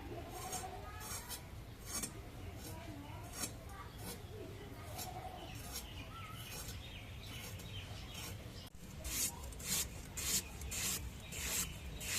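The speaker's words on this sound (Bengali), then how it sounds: "এখন আলু গুলো কেটে নেই" Potatoes being cut with a knife in a home kitchen, heard as steady rasping, scraping strokes with a run of sharper, evenly spaced cuts near the end, close and moderately loud, with no talking.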